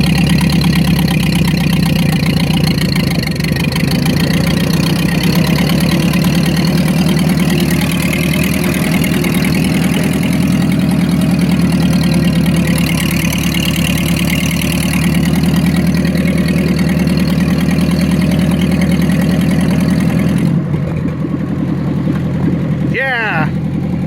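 An old tractor engine bought for $200 runs loud and steady close by, its low rumble holding with a slight rise in revs, then cutting off near the end.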